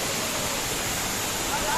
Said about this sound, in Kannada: ಮಿನಿ ಫಾಲ್ಸ್ ಇಂದ ದೊಡ್ಡ ಫಾಲ್ಸ್.